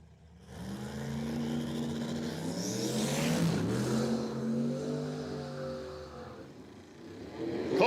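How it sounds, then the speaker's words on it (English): A Ford Ranger pickup drag racing down the strip at Cordova Dragway, its engine roaring loudly as it revs and sweeps past with a rising and falling pitch, heard fairly near for several seconds. "that little Ford Ranger gets the buy run"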